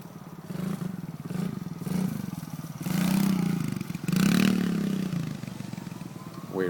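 A dirt bike ridden in second gear, its engine rising and falling in revs at moderate distance with some clatter and scraping, while voices talk in the background.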